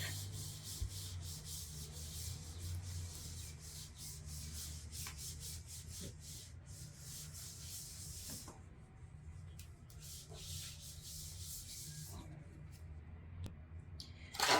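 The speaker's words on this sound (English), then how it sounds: "Now I'm just going to spray some alcohol on the cover of my iPad and give that a wipe" Steady rhythmic rubbing strokes of a cloth wiping an iPad cover with alcohol, close and fairly quiet, pausing briefly before resuming.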